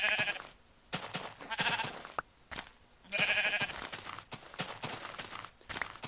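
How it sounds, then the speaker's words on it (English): Sheep bleat several times in short bursts, mixed with soft game-like footsteps and shuffling, moderately loud and close with brief pauses. "the sheep aren't impressed"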